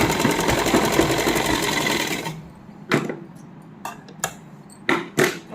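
Sewing machine stitching the inner lining onto a heavily hand-embroidered suit, running in a fast steady burst that stops, followed by several short separate bursts of stitching.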